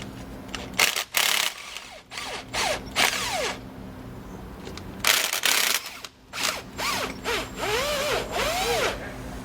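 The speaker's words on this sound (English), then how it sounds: "We're going to start here on the passenger side and remove all the nuts." Power ratchet wrench spinning nuts off an anti-sway bar plate on a 2015 Tiffin motorhome, close bursts of buzzing whir in short repeated runs with pauses between.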